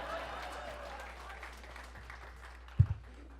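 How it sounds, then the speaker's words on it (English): Applause from a comedy club audience fades at moderate volume, with a brief thump near the end and voices faint in the background. "Round of applause, too, for John."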